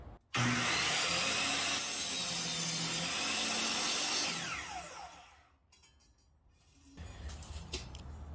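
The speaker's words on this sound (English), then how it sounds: "You should be able to see the blade comes just to the right of my line. We'll make our cut." A power saw cuts through wood for a simple mobile storage cart, starting abruptly with a loud, sustained whine, then winding down and falling quiet before some handling noise.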